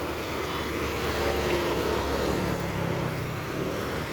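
Busy street traffic heard as a steady rumbling wash of engines and road noise at middle distance, without clear individual horns or voices.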